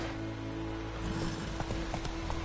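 Hooves of the horse Roach in The Witcher 3 clip-clop at a steady trotting rhythm over a constant low background hum, the hoofbeats growing more distinct midway.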